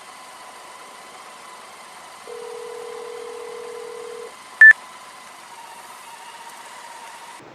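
Cell phone keypad tones during a traffic stop in a car, a long steady tone followed by a sharp short beep over a faint idling engine hum, with no talking.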